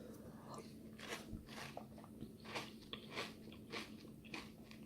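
Crunchy cereal soaked in Alpro cashew milk is chewed close up, with repeated soft crunching bites in an uneven rhythm over faint background hum.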